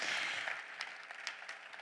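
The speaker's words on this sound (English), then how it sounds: "a round of applause for that panel" Applause from a summit audience after a panel in Riyadh, a faint, distant spatter of clapping that fades from a fuller wash into scattered claps over under two seconds.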